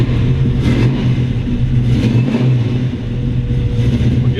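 A 1969 Chevrolet Camaro SS 427 V8 engine starts, rumbles and revs, its pitch rising and falling in a few surges, loud and close with no voices.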